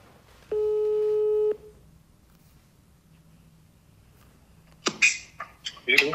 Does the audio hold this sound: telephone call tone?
yes